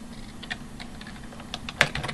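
Someone types a sentence on a computer keyboard, a quick irregular patter of light key clicks close by, with one sharper keystroke near the end and no talk.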